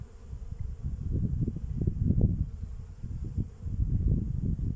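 Honeybees swarm around an open hive with frames of nectar, making a dense, low, continuous buzz close to the microphone that swells and fades slightly, with no talking.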